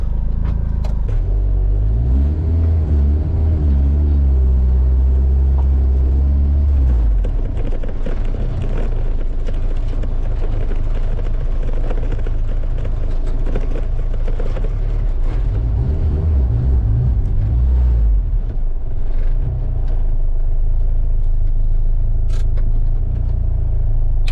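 A turbocharged K24A2-engined Honda Civic hatchback runs on a dyno, its engine droning loud and steady for about twenty-four seconds, with a rising pitch early on before settling into a sustained rumbling roar.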